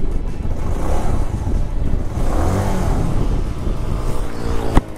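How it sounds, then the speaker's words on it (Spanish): A Bajaj Avenger 220 Cruise motorcycle engine runs quietly at idle, a soft, low, even rumble mixed with outdoor wind buffeting on the microphone, ending with a sharp click. "se escucha un motor bastante silencioso, muy fino, no hace tanto ruido"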